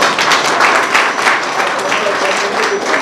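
An audience at a Diwali-issue book launch claps loudly and steadily for three seconds, a dense, even roar of applause filling the hall without a pause.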